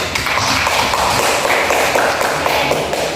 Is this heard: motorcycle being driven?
no